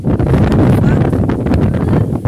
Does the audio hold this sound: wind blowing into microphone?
yes